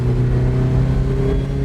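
An Opel Speedster with a GM 2.2 liter Ecotec engine accelerates up close, a loud, steady engine drone with strong harmonics sustained through the short burst.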